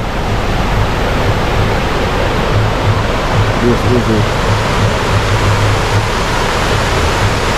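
Waterfall at Cane River Falls in Bull Bay, Jamaica, a steady broadband roar of falling river water filling the scene continuously, with a voice speaking briefly over it.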